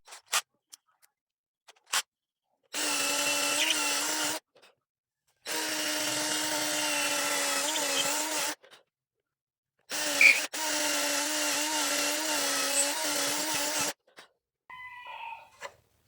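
A power drill bores a 1/4 inch hole in wood while a wooden saw handle is being made, with three sustained whining runs separated by pauses, close and steady, plus a few faint knocks between.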